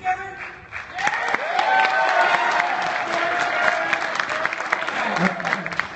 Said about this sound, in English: I want to get more applause for Alexander.